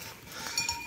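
Goats bleat briefly in a pasture, a short nasal call or two over soft outdoor background, fairly close, with no talking.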